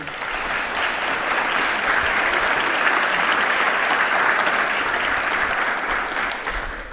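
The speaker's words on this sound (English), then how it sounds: "Please, a round of applause for all of them." Steady, full audience applause fills the hall at the close of a summit event, a dense even roar of many hands that holds throughout without spoken words.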